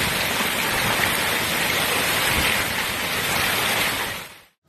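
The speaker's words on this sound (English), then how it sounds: "Merritt Island, Florida was suddenly struck by intense hail and strong winds, turning backyard pools into a frothy white storm." Intense hail and strong winds hit Merritt Island, Florida, making a dense, continuous roar and hiss, loud and unbroken, with pounding on surfaces before it cuts off abruptly.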